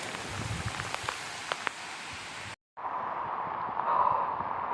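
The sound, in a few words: heavy monsoon rain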